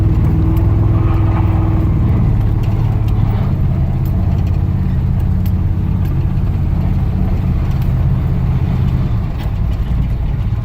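A 1978 Trans Am fitted with Dynomax Super Turbo mufflers idles outdoors on a snowy day, giving a deep, steady, rumbling burble that stays close and even for the whole stretch with no talk.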